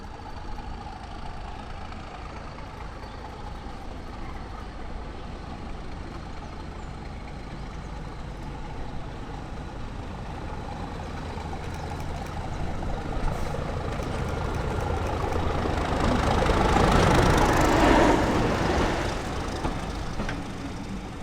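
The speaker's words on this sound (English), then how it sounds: "Here comes the diesel." A diesel locomotive on the North York Moors Railway draws closer near a level crossing, its low engine rumble steadily rising in loudness to a peak near the end, then easing slightly, with no talk.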